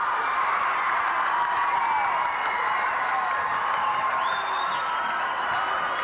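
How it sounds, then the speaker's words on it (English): A home crowd at a Glendale versus Kickapoo high school basketball game keeps up a loud, steady roar of cheering and clapping, with scattered whoops over a continuous wash of noise. "Glendale crowd is happy."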